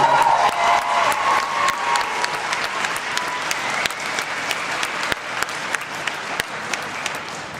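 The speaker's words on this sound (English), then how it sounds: "So if we could just give them a little round of applause" An audience at an anime convention closing ceremony breaks into applause, a crowd of hands clapping steadily with a few sharper individual claps standing out, fairly close and filling the whole stretch.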